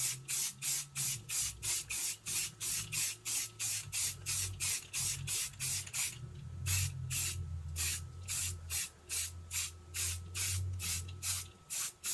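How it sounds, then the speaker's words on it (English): Rust-Oleum flat black spray primer hisses from an aerosol can in many short, regular bursts, close and steady, with a faint low hum underneath. "I will use a flat black primer, also by Rust-Oleum."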